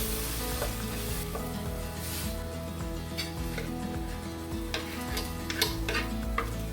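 Masala spices, including Kashmiri chilli, turmeric, coriander powder and fennel with chopped tomatoes, sizzle in a pan while being stirred, a close steady frying hiss broken by repeated scraping strokes and light clinks.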